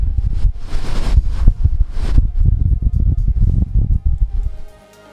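Strong gusty wind on a hilltop by the Eagle Stone on Baslow Edge buffets the microphone with loud, rumbling low roars and bursts of rushing air, then suddenly drops away near the end.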